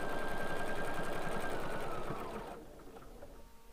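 A sewing machine stitches a flannel ravioli quilt at a steady, rapid rhythm, close and clear, slowing and stopping near the end with a few light clicks.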